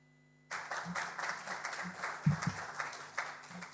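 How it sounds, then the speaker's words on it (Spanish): An indoor audience at a university sector meeting on decarbonising buildings applauds after a speaker is introduced, with clapping starting suddenly and continuing steadily at a moderate, fairly close level. "muchas gracias por los aplausos"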